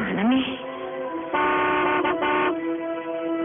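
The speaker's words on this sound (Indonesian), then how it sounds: "Beberapa kali aku klakson mobilku, tapi tidak ada yang keluar." A car horn sounds at a villa gate in the late afternoon, giving a couple of sustained honks close by in quick succession, with a voice speaking just before them.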